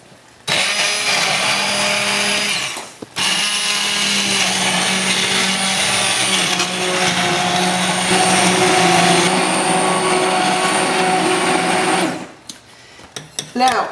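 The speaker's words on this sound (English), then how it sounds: "what I'm doing is simply blending this" A loud blender whirs steadily blending roasted wild mushroom soup, pausing briefly once before resuming its high motorized roar, then cutting off near the end.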